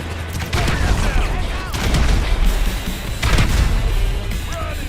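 Gunfire in GTA Online on a snowy day, loud bursts of shots and heavy booms rolling continuously with game noise, dense and close throughout.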